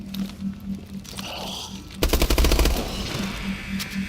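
An S12 shotgun fires in a Call of Duty zombies game, a rapid burst of loud close shots about halfway through, after quieter game sounds and a low hum.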